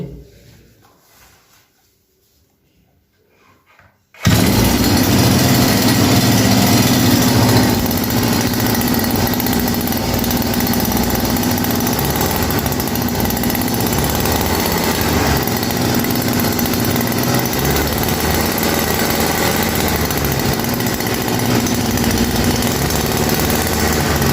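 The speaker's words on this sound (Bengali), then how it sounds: "এখন আমরা কিক দিয়ে মেশিন স্টার্টের ভিডিওটি দেখাচ্ছি" A grass-cutting brush cutter is kick-started after a service: a brief quiet stretch, then the engine catches abruptly and runs at a steady, loud, high-pitched drone that holds close to the end.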